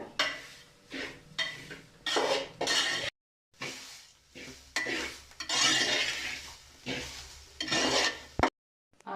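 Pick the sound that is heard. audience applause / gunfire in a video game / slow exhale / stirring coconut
stirring coconut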